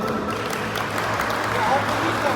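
Applause for goalkeeper Anakeev Daniyar of the Bolterek team at a football awards ceremony, a steady crowd clapping that lasts throughout with voices talking over it.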